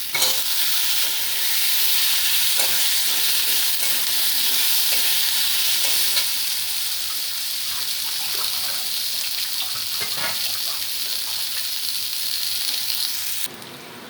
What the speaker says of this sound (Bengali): আলুটাকে 2-3 মিনিট ভেজে নিয়েছি